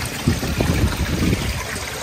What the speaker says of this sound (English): I got a waterfall over there.